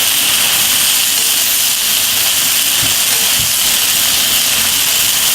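Garlic sizzles and browns in a pan for chicken with portabella mushrooms, giving a loud, even frying hiss that fills the whole stretch, with a few faint low clunks partway through.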